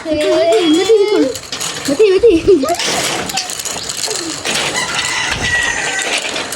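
Chickens and roosters at an exotic park, with two drawn-out crows near the start and clucking mixed into the background, while people talk nearby throughout.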